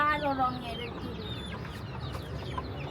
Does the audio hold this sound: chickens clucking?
yes